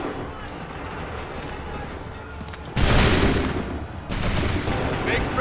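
Musket volleys crack out in Assassin's Creed 3, a battlefield scene with rows of soldiers firing: two sudden loud broadband blasts of massed gunfire, each followed by sustained noisy rumble, over a busy background of shouting and movement.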